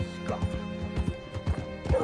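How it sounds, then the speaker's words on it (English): Horse hooves clip-clopping at a walking pace in Red Dead Redemption 2, a steady uneven rhythm of hollow thuds with faint tack and game ambience, and voices in the background. "Hitch your horse up here."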